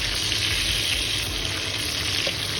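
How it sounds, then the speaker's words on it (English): Bacon sizzling steadily in a pan with grease popping, a continuous close frying hiss with small crackles throughout. "I flipped it, but that grease is popping just a little bit."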